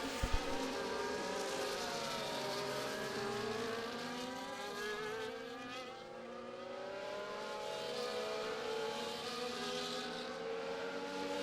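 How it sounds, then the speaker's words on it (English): Engines whine and roar continuously in a racing video game at the Baku circuit, rising and falling in pitch as several cars race past, loud and close throughout with no talking. "It's the safety cars coming in this time around."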